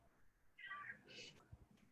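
A house cat gives a soft, quiet meow, a short rising call followed by a second higher note, heard faintly in a calm indoor room with light background noise.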